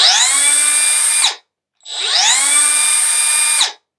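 A Milwaukee M12 Fuel 3-inch compact cut-off tool (model 2522-20) gives two loud, high-pitched free-running whirs up close. Each burst spins up fast, holds steady for about a second, then winds down, with a short silence between them.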